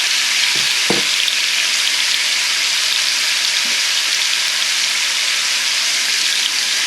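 Canned summer squash sizzles in an overly hot pan, a steady, loud, close frying hiss that continues throughout, with a couple of soft knocks early on and no talk.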